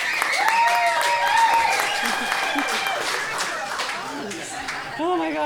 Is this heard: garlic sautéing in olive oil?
no